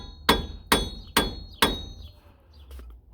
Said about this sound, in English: Give it a few whacks. Get all that oxidation off of it.